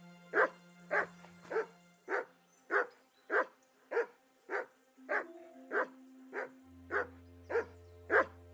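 A dog named Mutt in a video game barks in a steady series of about fifteen evenly spaced woofs, close and clear over a quiet background with low hums.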